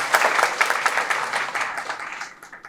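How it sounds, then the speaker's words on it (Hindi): An audience claps for journalists at a talk in a lively burst of many hands that gradually thins and fades over a few seconds. "हम चाहते हैं कि इन लोगों के लिए भी तालियां हो जाए।"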